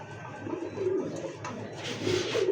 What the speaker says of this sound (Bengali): কবুতর দুটো ডাক তো শুনছেন, অ্যারাবিয়ান ব্ল্যাক, অ্যারাবিয়ান ককা কবুতর